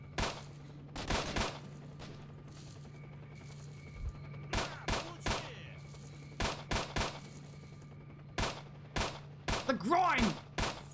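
Gunfire in the video game S.T.A.L.K.E.R. Shadow of Chernobyl, with sharp single shots and rapid bursts at irregular intervals over a low steady hum, and someone speaking briefly.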